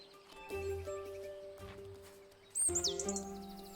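Bird chirps at a bird feeder in the game Botany Manor, a few short tweets over soft tonal game music, moderately near.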